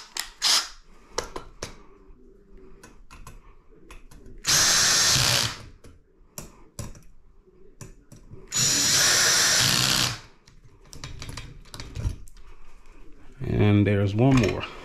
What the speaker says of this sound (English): I'm gonna use the drill just for time's sake